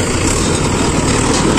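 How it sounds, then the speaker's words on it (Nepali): A tractor stuck at a gravel-filling site for a soap factory foundation, its engine running as a loud, steady, unbroken drone close by, with no one speaking. "किनभने ट्र्याक्टर फसिसकेको छ।"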